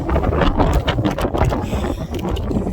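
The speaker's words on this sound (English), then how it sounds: "Going across the max patch in a wind advisory." Strong wind during a wind advisory on Max Patch, a bald mountaintop on the Appalachian Trail, roars against the microphone in loud, buffeting, gusty rumbles with no pause across nearly three seconds.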